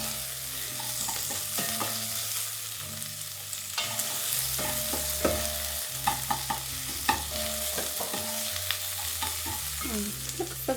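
Food for a one-pot beef and vegetable fried rice frying in a little oil in a pot, a continuous sizzle with occasional clicks and stirring knocks, heard under steady background music with no speech.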